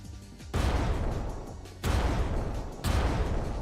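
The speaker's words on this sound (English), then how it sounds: "that's my rocket firing sound" Rocket launch sound effect from a Unity DOTS first-person shooter game: three loud, bassy whooshing blasts, each starting abruptly and roaring on until the next one begins.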